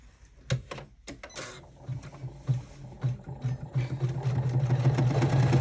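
An embroidery machine runs a top stitch on the left wing of an in-the-hoop zippered bag pocket, opening with a few sharp clacks before settling into a rapid, steady needle chatter that grows louder and close.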